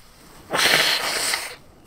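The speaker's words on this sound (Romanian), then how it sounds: "să-mi suflu nasul, stați așa" A person with a cold blows their nose once, a single forceful rush of air lasting about a second, close and loud against an otherwise quiet background.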